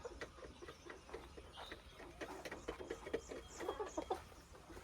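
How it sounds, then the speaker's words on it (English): Hens and a rooster on a farmstead cluck softly in a steady, irregular murmur of short calls, fairly close but quiet, with no voices over them. "this is a big hen. This is a hen."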